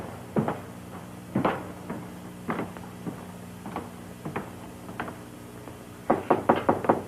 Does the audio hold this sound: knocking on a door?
yes